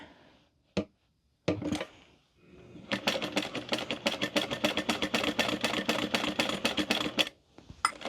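A sewing machine stitches a Gabriella handbag in a steady rapid run of needle strokes lasting several seconds, preceded by a few isolated clicks and handling knocks.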